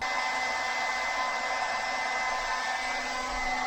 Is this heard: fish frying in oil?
no